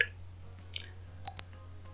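Two quick, crisp mouse clicks close together on a button, with a fainter click just before them, over a steady low hum in a quiet room.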